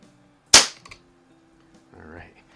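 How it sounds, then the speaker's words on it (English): A trigger pull on an Umarex Colt Peacemaker CO2 revolver replica snaps off as a single sharp, close metallic crack, followed by a couple of faint clicks and brief mechanical rattling. "we'll do a couple of trigger pulls on it and see how that works"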